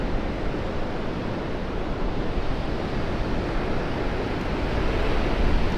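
Ocean waves surge in toward the shore in a steady, loud, broadband wash, with wind noise buffeting the microphone throughout and no voices.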